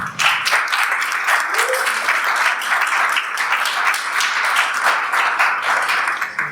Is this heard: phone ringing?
no